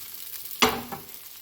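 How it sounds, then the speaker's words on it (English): A gluten-free tortilla made with rice flour batter meets a hot pan on raised heat, giving a single sudden sizzle that fades quickly after a moment of quiet, close and alone. "I cranked up the heat a little bit, and I'm going to let it cook for a little while on one side before I flip it"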